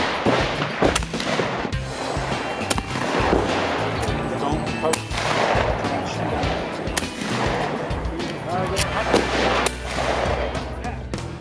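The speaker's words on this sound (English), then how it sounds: "There were many people that took part in skeet shooting, handgun target shooting" Shots ring out at a busy outdoor range event with skeet shooting and handgun target shooting, sharp reports firing repeatedly and unevenly, some close and loud, others more distant, over a constant crowd murmur.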